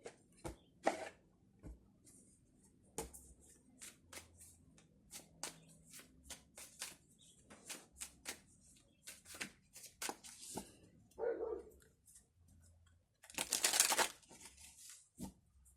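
Tarot cards being shuffled and handled at close range: scattered soft riffles, taps and flicks with irregular pauses, then a brief louder burst of fast riffling near the end, quiet and with no talk.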